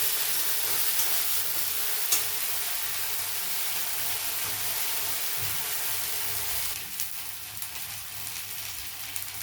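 Onions, green chilies and garam masala sizzle steadily in a pan while being sautéed for a snail curry, a constant close frying hiss that brightens slightly near the end.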